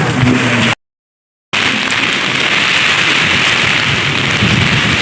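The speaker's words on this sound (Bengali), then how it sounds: "ভালোই কিন্তু বৃষ্টি শুরু হয়ে গেছে।" Heavy rain pours down on a street during Cyclone Remal, a loud, dense, steady roar of drops striking surfaces nearby, interrupted by one short silent gap early on, with no talking.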